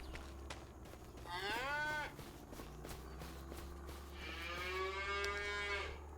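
Cattle moo twice in the farming survival game Krustoo Farms, drawn-out bellowing calls over a steady low hum, with faint footsteps between them.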